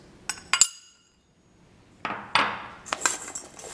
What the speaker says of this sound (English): So in goes our onion and pimentos.